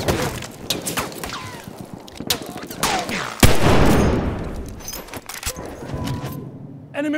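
Enemy machine gun firing in a Battlefield 1 battle, rapid bursts of gunfire cracking amid explosions and battlefield clatter, loud and chaotic with a faint shout in the mix.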